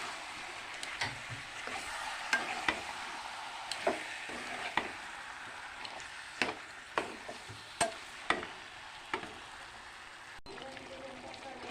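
A spoon stirs a beaten mixture into duck meat frying in a pan, giving a soft continuous sizzle with a series of sharp scraping and tapping strokes at irregular intervals, close up.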